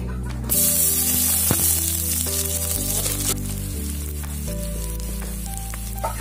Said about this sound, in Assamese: তেলখিনি গৰম হৈ গ'ল এতিয়া মই পিঁয়াজ দিম